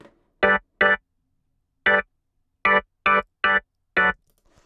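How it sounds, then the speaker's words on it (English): Fat Cat organ preset from Logic Expand, used untweaked for garage house, playing seven short staccato chord stabs in an uneven rhythm, close and clean with silence between hits. "Fat Cat organ. Just this preset alone."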